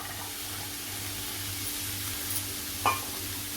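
French beans dropped into a hot pan for a dry Marathi-style bhaji, with a soft continuous sizzle under a low hum and one brief clink partway through, no voices.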